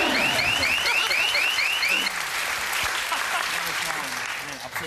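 Dense applause from a TV studio audience on The Harald Schmidt Show, loud and continuous, with a rising whooping call early on over the clapping.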